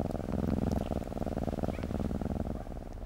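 A cat purrs steadily and close, a continuous low rumbling rhythm of rapid pulses that carries on unbroken throughout, with no other sounds or voices.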